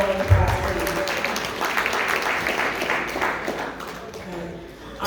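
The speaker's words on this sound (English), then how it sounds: "Let's give a civil member Richard one more round of applause, please." Audience at an NAACP California Hawaii State Conference legislative day gives one more round of applause for an honoree, sustained crowd clapping that gradually tapers, with murmured voices underneath.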